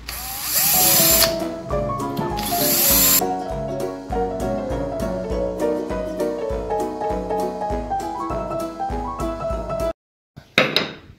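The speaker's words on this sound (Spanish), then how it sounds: "Y ahora ya adentramos un poco más lo que es el taladro" An electric drill bores holes in repeated close, loud whining bursts, changing pitch as it bites, then stops abruptly before a brief final clatter.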